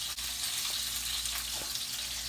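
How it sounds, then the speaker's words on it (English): Steady broadband sizzling of chicken breasts searing in a hot pan, continuous and fairly close, with no voices. "we're just going to sit here and listen to the sizzle"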